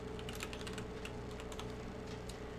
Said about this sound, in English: why am I typing YouTube?